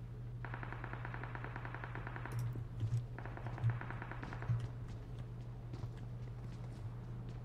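Gunfire in PUBG Mobile: two long bursts of rapid automatic fire at moderate distance, separated by a short gap, followed by scattered footstep-like thuds, with no talking.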